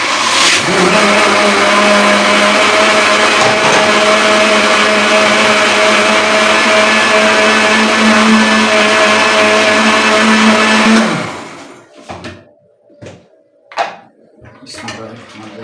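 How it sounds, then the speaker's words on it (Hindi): A blender grinds half a kilo of sugar, a loud, steady motor drone running for about ten seconds before cutting off, followed by a few quiet clatters and knocks. "अब इसका जग लगाएंगे और इसमें हम ग्राइंड करेंगे चीनी आधा किलो"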